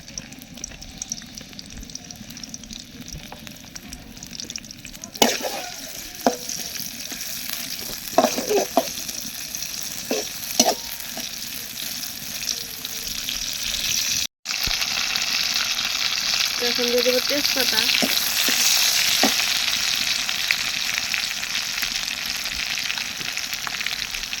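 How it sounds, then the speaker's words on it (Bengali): Mustard oil poured into a pan of khichuri, sizzling loudly and steadily up close, with intermittent clinks and scrapes of stirring, a brief dropout midway, then a stronger, hissier frying roar. "এখন দিয়ে দেবো সরিষার তেল একটু বেশি করে দিব খিচুড়ির মধ্যে"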